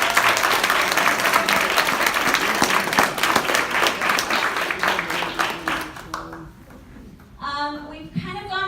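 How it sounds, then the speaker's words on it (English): An annual food co-op owners meeting audience claps loudly for standing board members, a dense round of applause that fades out near the end as a voice begins to speak. "these people standing up deserve a hearty round of applause"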